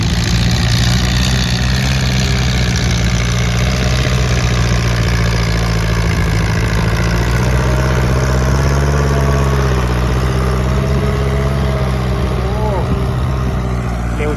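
A modified farm tractor engine runs steadily and loudly while plowing a field, a deep, continuous drone with a few small shifts in pitch as someone talks over it throughout.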